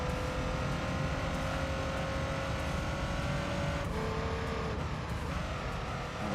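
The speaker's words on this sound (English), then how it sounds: "I do like the boxer engines and everything like that. Like they always sound really nice." Boxer-engined car racing in Gran Turismo 3, a steady droning engine tone held at high revs, then dropping in pitch as it shifts down through the gears, loud and continuous with no talking.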